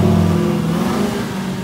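A Dodge Challenger Hellcat engine revs loudly nearby, a deep growl that eases off and fades into a rumbling idle.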